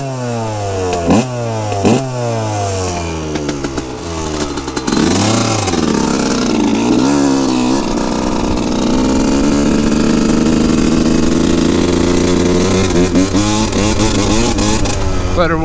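A Yamaha YZ125 two-stroke motocross bike warms up at a mountain track, with a few sharp revs followed by a long, loud, buzzing two-stroke idle that wavers steadily, close by.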